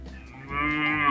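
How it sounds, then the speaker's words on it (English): Cows mooing on a farm, a close, loud, sustained low moo that swells in the second half of the short moment, heard alone with no talk. "Cows."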